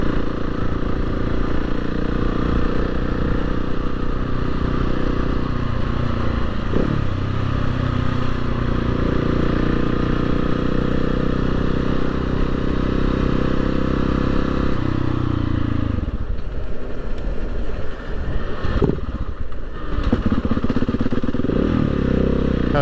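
A KTM 690 SMC R single-cylinder motorcycle engine, freshly jump started, idles and revs with a loud, throbbing thump, then dips and picks back up again near the end.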